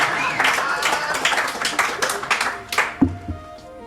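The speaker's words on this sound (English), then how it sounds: "You can clap, go on and clap." Audience clapping in a pub, a spread of uneven hand claps of moderate loudness that thins out toward the end, with a voice briefly audible near the close.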